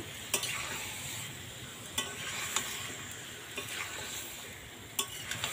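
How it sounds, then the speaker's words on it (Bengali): Desi chicken curry being stirred and fried in a pan in a village kitchen, with a steady low sizzle and occasional sharp scrapes and knocks of the spoon against the pan, close and fairly quiet. "এইভাবে নাড়াচাড়া করে আমি চিকেনটাকে ভালো করে কষিয়ে নেব।"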